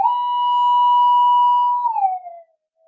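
A Minelab gold metal detector holds a steady electronic tone for about two seconds over metal, then wavers and slides lower before cutting off, loud and clear with no talking.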